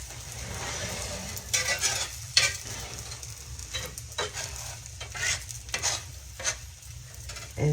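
An egg omelette sizzles steadily in a hot pan while a spatula scrapes and taps underneath to flip it, giving close, intermittent scraping over the constant frying hiss, with no talking.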